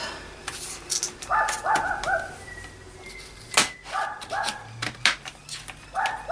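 Dog barks in several short bursts of two or three yaps, close and fairly loud, in an indoor craft room, with a faint whimper and quiet background noise between bursts.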